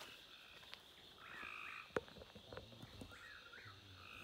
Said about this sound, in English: Hey frogs, you can hush at any time now.